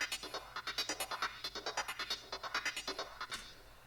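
An Ableton instrument fed through MIDI effects, distortion, an amplifier and a filter plays a quick, evenly pulsing sequence of bright, buzzy notes, steady and fairly quiet, with no voices.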